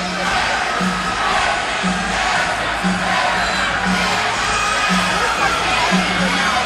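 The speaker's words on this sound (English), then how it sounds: "Crowd really getting into this game on the Alton end." Crowd at a youth ice hockey game between Granite City and Alton cheering and shouting steadily throughout, a dense roar of voices with whoops and faint rhythmic thumps beneath.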